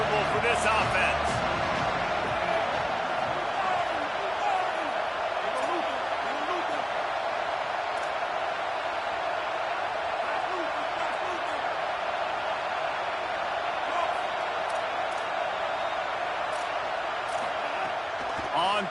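A stadium crowd in an American football video game keeps up a steady, broad roar for nearly twenty seconds, with faint thuds and shouts rising out of the constant wash.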